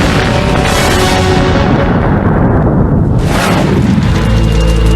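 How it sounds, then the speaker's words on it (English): A massive pipeline explosion erupts as a loud, sustained roaring boom with a rumbling low end that swells and surges for several seconds, without speech. "what caused one of the largest pipeline explosions in U.S."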